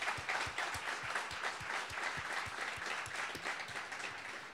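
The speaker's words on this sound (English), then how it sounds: "James Gosling, a big round of applause." Sustained audience applause at a Java developer meetup greeting James Gosling, dense and steady clapping from a sizeable crowd throughout.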